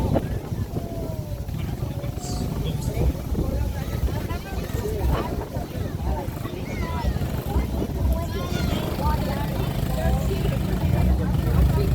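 A Can-Am off-road vehicle churns through water at a mud bog, its engine rumbling low and continuous beneath steady crowd chatter and voices nearby.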